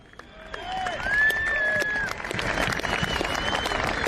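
Audience applause for the Heidelberg United or Dandenong City team at a grand final ceremony, steady clapping building and continuing throughout, with whistles and cheers mixed in.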